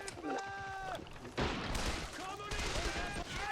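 A World War II video game ambush rings with bursts of rifle and machine-gun fire in quick volleys, some loud and close, mixed with shouting voices and other game sounds.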